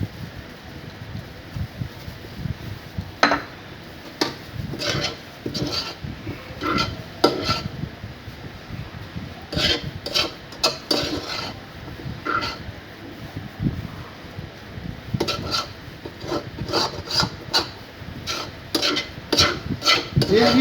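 A spoon scrapes and clatters against a metal pot while chicken vegetable spaghetti is stirred, giving irregular clinks and knocks over a low steady cooking hiss that runs throughout.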